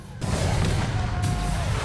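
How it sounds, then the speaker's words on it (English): Explosions from bombing in the Halo TV series hit with a sudden heavy boom, then sustained rumbling blasts and crashing debris, loud and close. "Man, they're like bombing it."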